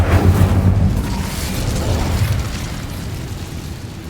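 Incendio fire spell in Hogwarts Legacy bursts with a loud fiery whoosh and boom, then settles into a sustained roaring crackle that slowly fades, no talking.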